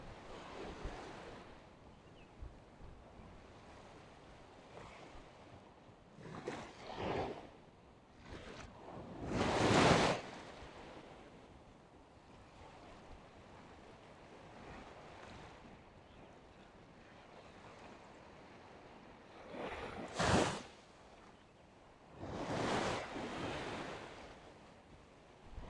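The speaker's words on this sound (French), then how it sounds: "Le bruit des vagues." Ocean waves on a beach on La Réunion wash in as soft, wind-blown surf, with several louder breaking swells rising and fading over a steady distant roar.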